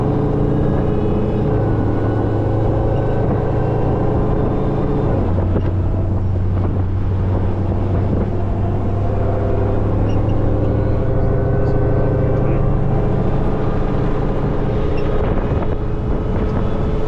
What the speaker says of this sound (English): let's warm the car up, head over to the track